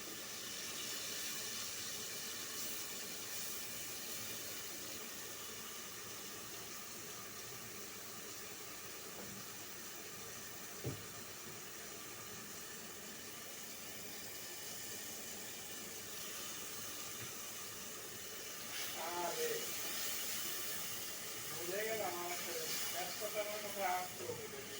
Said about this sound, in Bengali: মশলাটা কিন্তু আমার খুব সুন্দর করে ভেজে নেওয়া হয়ে গেছে।